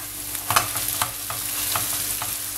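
Minced meat frying in a pan for pasta, stirred with a spatula in a series of scraping strokes and light knocks over a continuous sizzle, close up with no voices.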